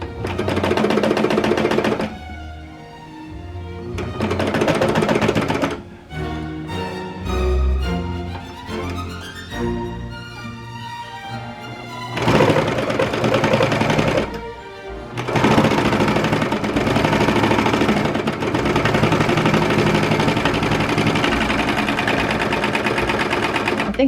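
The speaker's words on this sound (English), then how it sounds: "Serging the whole thing, really." Serger sewing machine running seams on a fleece sweatshirt, several long buzzing bursts with brief pauses, close and loud, with faint speech in between.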